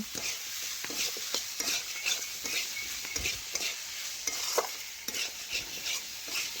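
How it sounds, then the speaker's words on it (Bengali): Spices stir-fried in a pan with boiled jackfruit seeds and potato: a steady sizzle under repeated scraping stir strokes and light clinks of a spatula against the pan, close and continuous with no talk. "ভালোভাবে নাড়াচাড়া করে একটু আমি মশলার সাথে কষে নিচ্ছি"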